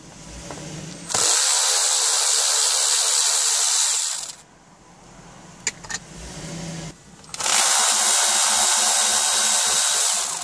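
A power tool removes Torx security screws from a panel on a Chevrolet Tahoe, making a loud, steady whirring drive in two long runs. Between the runs there is a quieter gap with a few small clicks.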